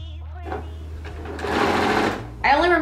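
A sewing machine stitching a sweater seam whirs in a short burst, close, while a person talks around it.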